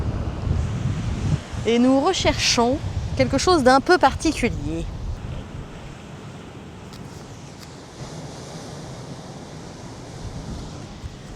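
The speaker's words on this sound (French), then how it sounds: "Nous sommes au bord de la mer." Sea waves and wind on a Fuerteventura shore among volcanic rocks: steady surf rush and gusty wind noise throughout, with someone talking over it early on.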